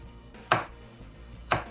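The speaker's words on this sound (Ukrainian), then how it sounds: "і наріжемо на перець чилі" Two crisp knife chops through chili pepper on a cutting board, about a second apart, close and clear against a quiet room.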